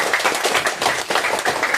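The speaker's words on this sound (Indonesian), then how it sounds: "Tepuk tangan dulu." Indoor audience clapping briefly, a close, lively patter of many hands in quick uneven bursts lasting under two seconds.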